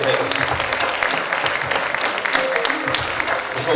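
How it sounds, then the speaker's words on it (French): A ceremony audience applauds steadily and fairly loudly as a bronze medal winner comes forward at a 2016 titles award event in Aveyron, the clapping dense and continuous throughout. "on peut l'applaudir jusqu'à ce qu'elle vienne ici même"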